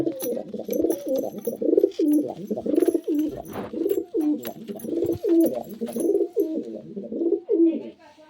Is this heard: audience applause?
no